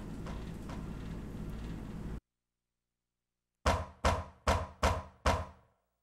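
Knocking at a door in a Silent Hill video game: after a stretch of ambient drone and a moment of silence, five loud, sharp, evenly spaced knocks ring out alone.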